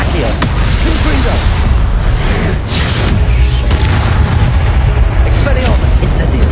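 Booming blasts and crackling explosions from a Confringo spell in Hogwarts Legacy, loud and continuous with dense rumbling impacts and voices mixed in the chaotic fight.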